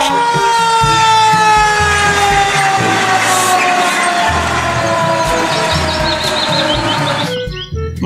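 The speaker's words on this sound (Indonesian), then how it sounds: "Yang ini ada mobil pemadam kebakaran." A loud, continuous toy fire truck siren wailing with a steady electronic tone, cutting off near the end.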